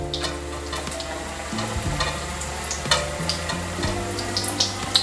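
Ash gourd pakoras fry in hot oil, a steady close sizzle and crackle with occasional stirring taps and small pops, and no voices.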